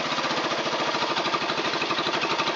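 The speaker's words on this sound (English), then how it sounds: "Got a few high tick over sets on the engine" Honda SL 125 motorcycle engine running at a fast tickover, a loud, rapid, rattling putter with steady, even pulses throughout and no talk.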